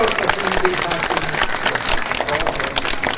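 A crowd at a Congress election campaign rally claps loudly and steadily, a dense wash of applause filling the whole moment.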